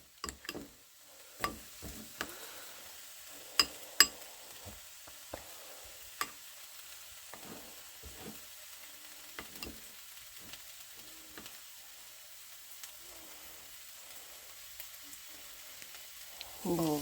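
Sausages frying in a pan for sausage and grits give off a faint, steady sizzle, broken now and then by sharp taps and clicks of stirring and utensils against the pan.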